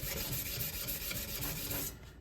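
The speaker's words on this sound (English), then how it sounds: "this sanding stick that I'm using here" Steady abrasive rasping of a sanding stick rubbed back and forth on a steel cleaver blade to flatten it, close and continuous, easing off near the end.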